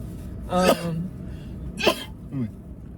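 Two sharp sneezes a moment apart, close and loud, followed by a quieter breathy sound.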